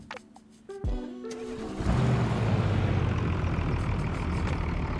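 Truck engine in a racing video game, a daily-driver build: a low idle rumble steps up into a loud, sustained rev that holds steady and close, with no talk over it.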